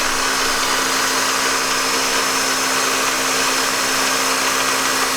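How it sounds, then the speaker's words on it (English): Milling machine running a 1/4 inch end mill at 3,800 RPM on power feed, cutting cooling fins into a chain box with a loud, steady high-pitched whine that holds constant throughout. "I decided to go with the cooling fins, so I'm just machining those out right now."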